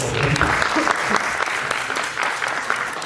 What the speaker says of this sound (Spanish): Ahora vamos a dar un aplauso, por favor, a estar con nosotros ahorita.